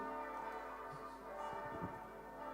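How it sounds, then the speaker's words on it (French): Christmas Eve church bells ring from a distance in a steady resonant wash, the tolling blended with a low background hum, with no one speaking. "Ce sont les cloches de Noël. Elles invitent à la veillée."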